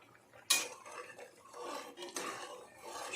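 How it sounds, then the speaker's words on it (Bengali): A lid is set down on a cooking pot of bubbling broccoli and potato curry, giving one sharp metallic clank followed by a soft steady simmering hiss and a lighter clink of metal. "আমি ঢাকনাটা নামিয়ে দিলাম।"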